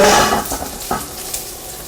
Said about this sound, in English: We've got our hot pan here, and I'm just going to be throwing in our asparagus